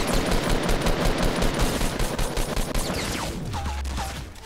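Dense, continuous automatic gunfire in Fortnite, a sustained rattling barrage that fills the whole stretch. It thins toward the end as a low rumble and a few chirping effects take over.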